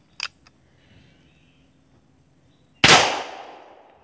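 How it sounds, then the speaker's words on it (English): A black powder revolver fires in a chain fire, one loud, close blast with a long ringing decay, preceded by small clicks and near-silence. "That felt like a chain fire as well"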